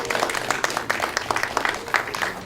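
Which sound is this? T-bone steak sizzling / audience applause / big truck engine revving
audience applause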